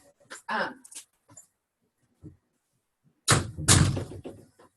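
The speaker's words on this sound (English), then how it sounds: "I have to shut this door." An indoor door is shut with a loud, close thud and rattle after a stretch of speech and quiet, with a voice talking just before it.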